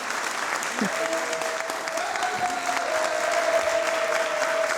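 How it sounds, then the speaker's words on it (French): Studio audience applauds a reconciliation on a comedy show, a steady wash of clapping throughout while a voice talks over it. "Public, on les applaudit"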